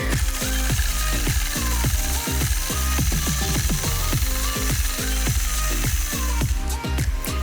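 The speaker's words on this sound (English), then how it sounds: "I'll engage my machine, and I'm just going to free motion quilt a wavy line across my space" Free motion quilting machine stitching a wavy line across a quilt: a steady, rapid mechanical chatter of needle strokes, loud and close, running continuously without any talk.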